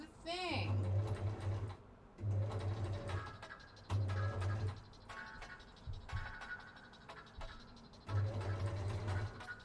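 Sewing machine stitching a dress seam in repeated bursts of a second or two, each a steady whirring run separated by short pauses, with a person talking faintly in the background.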